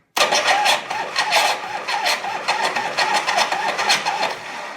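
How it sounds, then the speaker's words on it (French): A car with a new battery cranks on its starter motor: a loud, close, rhythmic churning whirr that begins abruptly and pulses steadily for several seconds without catching. "Tu vas quand même mettre un coup de démarreur malgré que le feu soit allumé."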